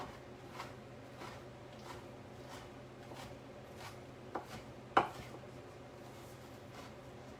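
A knife chopping fresh spinach on a cutting board in a steady rhythm of soft, evenly spaced taps, with one sharper knock near the end. The sound is quiet and close, and no one talks.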